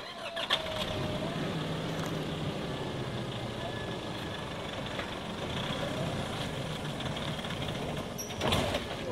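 An off-road 4WD engine rumbles steadily at close range as the vehicle climbs a rough bush track at Baal Bone Gap, the noise continuous and broad with a brief surge near the end.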